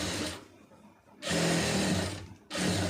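A sewing machine stitches fabric along an opening in loud, fast bursts, running briefly, pausing for about a second, then running again twice, each run a dense steady whirr.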